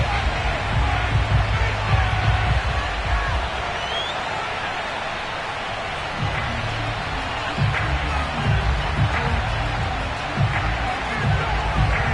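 A sellout stadium crowd roars steadily at an NFL football game between the Falcons and the Washington football team, a broad sustained cheer with scattered whoops rising and falling throughout.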